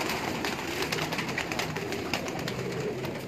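Pigeons cooing at a breeder's rooftop loft setup, a soft, continuous murmur of overlapping coos from several birds at close to middle distance under steady background noise.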